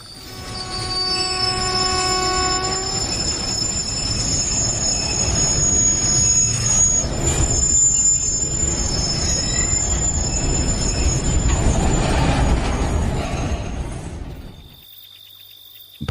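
A moving train at night with metal wheels squealing on the rails, loud and continuous, with sustained high whines and a horn-like tone over a rumbling carriage, fading out at the end.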